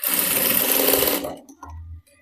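A sewing machine runs a continuous stitching burst on a half-collar blouse, loud and steady for about a second before cutting off, followed by a soft low thump and faint handling.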